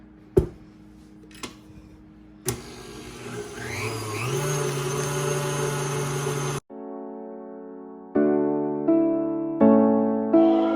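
An electric stand mixer beats eggless chocolate cake batter, starting with a few clicks, then whirring steadily while the pitch rises, switching off abruptly before restarting in loud rhythmic surges; no talk.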